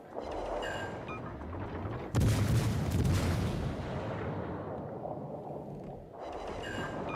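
A loud booming battleship broadside in the naval combat game World of Warships Legends, one big blast that rolls into a long rumbling tail, with more artillery thuds and game sounds around it.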